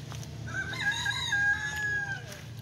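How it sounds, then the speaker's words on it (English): A rooster crows nearby, one long drawn-out call, over low background hum with faint farmyard noise. "Cute chickens in the chicken coop."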